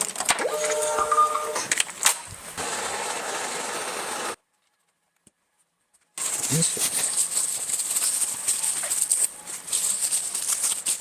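A 3D printer whirs and rattles mechanically, with a steady buzzing drone, broken by a couple of seconds of silence before the machine noise resumes.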